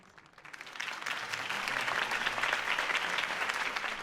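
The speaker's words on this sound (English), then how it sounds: "could have heard that applause" A video game crowd bursts into applause, building quickly after a quiet start into steady, dense clapping and cheering that holds until the end.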